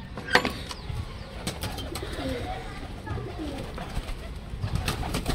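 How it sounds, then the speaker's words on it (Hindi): Pigeons coo softly in a low, rolling murmur over faint background noise, with a few brief flutters and clicks. "तो देख सकते हो हमारे कबूतर अब निकल रहे हैं,"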